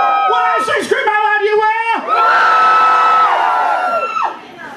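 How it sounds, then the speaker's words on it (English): A concert crowd screams and cheers in sustained, loud whoops and yells at a show, high shrill voices rising together and then tailing off near the end. "There was one really high-pitched scream over there."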